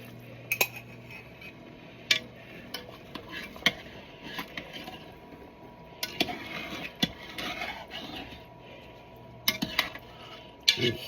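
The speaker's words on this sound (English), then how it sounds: "And stirring it around." Broth being stirred into a pot roast in a cooking pot, giving scattered clinks and scrapes of a utensil against the pot at irregular intervals, with no talk over it.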